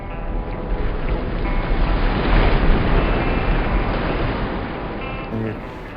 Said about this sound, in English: the water's like all churned up there and rushing off the reef and bouncing off the cliffs